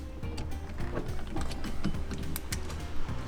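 A hand ratchet turns bolts during an NRG steering wheel install on an F-body car, giving a steady, close stream of clicking and grinding with no talk over it.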